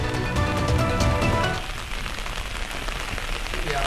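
Heavy rain pours down in Hyderabad, a dense, steady hiss of drops striking surfaces that continues after a brief tonal opening.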